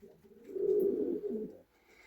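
A pigeon gives one soft, low, rolling coo close by on a freezing winter morning at about minus fifteen degrees, then falls quiet.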